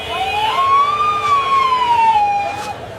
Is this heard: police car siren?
yes